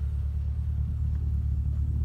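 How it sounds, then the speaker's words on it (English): A 2010 Holden VE SSV sits idling with a deep, steady exhaust rumble, loud and close, with a low throb and no talking. "as you could probably hear, nice little grumble in the exhaust"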